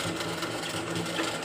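A sewing machine runs steadily at close range, finishing the end of a seam with a backstitch, giving a continuous whirring, fairly faint mechanical hum without pauses.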